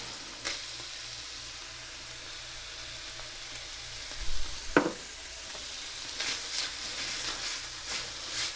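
Garlic frying in a pan for a shepherd's pie gives a gentle, continuous sizzle, with a sharp scrape of stirring midway and further bursts of crackling and stirring toward the end, fairly close and without talk.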